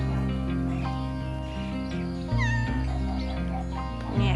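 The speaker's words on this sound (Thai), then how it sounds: "เนี่ยค่ะน้องแมวทักทายทุกคนด้วยนะ" A cat meows a few times in a garden with a stone feature and a fountain, the calls short and clear over a steady layer of background music.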